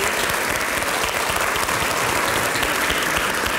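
An audience in a dim lecture hall claps, a dense steady applause from many hands that holds evenly throughout.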